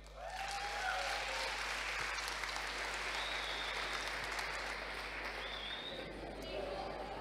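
Audience at a ninja obstacle-course league finals applauding and cheering, a dense, steady roar of clapping and shouts filling the whole stretch, with a few whistles rising above it.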